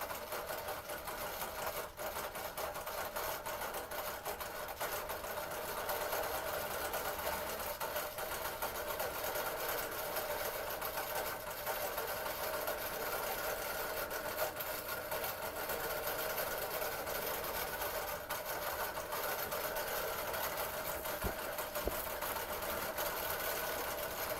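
A longarm quilting machine runs continuously with a steady mechanical whir and rapid, even stitching, loud and close for the whole stretch, with no pauses.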